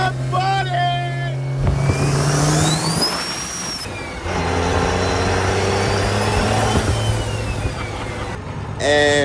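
A modified truck called Chain Smoker revs hard on a drive down a boulevard, its engine roaring in loud surges and shifts with whining tones over a deep rumble, and a brief voice near the end.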